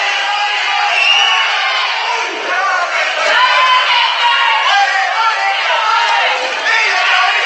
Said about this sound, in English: Crowd getting into this fight now